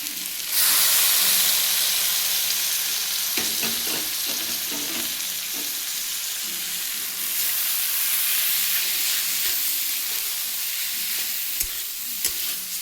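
Grated paneer and chili powder are stirred in a hot pan, producing a continuous frying hiss broken by irregular scraping strokes of the spoon against the pan.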